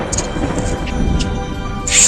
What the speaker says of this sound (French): Il y a une forte tempête.